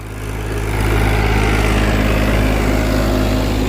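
A Farmtrac 42 Promax tractor drives a 13-tine rotary tiller through field soil, producing a loud, close, steady engine roar with a low throbbing rumble throughout.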